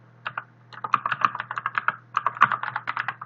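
Fast, irregular clatter of keys on a computer keyboard while entering commands in an Ubuntu terminal, close and clear, with short pauses between bursts and no talking.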